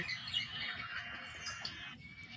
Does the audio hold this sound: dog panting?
no